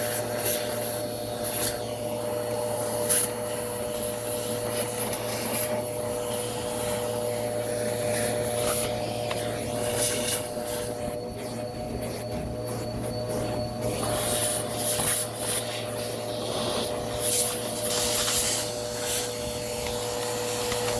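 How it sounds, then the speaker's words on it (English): A vacuum cleaner drones steadily and continuously as it sucks up dust around a Hoover Elite Rewind upright under repair, with a sustained motor hum and occasional rubbing and scraping as the nozzle moves. "I'm going to grab another vacuum, and we're going to make sure it's far enough away so that we don't accidentally suck up those screws"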